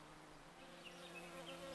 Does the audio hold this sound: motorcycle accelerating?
no